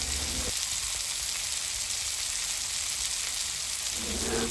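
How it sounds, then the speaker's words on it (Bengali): Masala fries in oil for a spicy chickpea bhuna, giving a steady, soft hiss and sizzle, with a few louder stirring scrapes at the start and end. "মশলাটা আমাদের আর কিছুক্ষণ সময় কষিয়ে নিতে হবে।"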